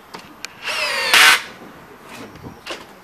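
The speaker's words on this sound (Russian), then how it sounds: "Сейчас попробуем те же шурупики покрутим." A Makita power drill whirs briefly while driving screws, revving up then spinning harder for a moment before stopping, close by amid faint background clicks.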